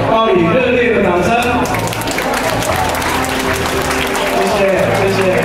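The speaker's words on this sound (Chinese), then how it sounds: "请报以热烈的掌声" Loud, close applause from the audience at a Rotary Club anniversary and sister-club ceremony during a souvenir exchange, sustained clapping mixed with a voice talking and background music.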